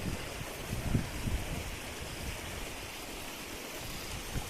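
Steady broadband hiss of rain falling in a village, continuous and moderately loud throughout with a few low thumps, no talk.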